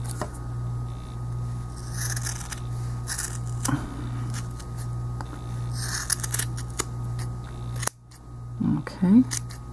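Scissors snip yarn to trim a crochet tassel for a left-handed chevrons and diamonds throw, giving a few soft close cuts and rustles over a steady background hum.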